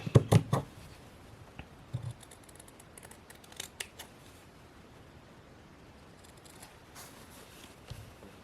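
Scissors snip through fabric pieces for a simple mug rug, a few sharp close cuts at the start and then sparse quieter snips and rustles over a soft background hiss.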